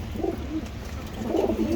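Pigeons coo close by in soft, rounded throaty calls, two distinct coo phrases rising over a low, steady background hum.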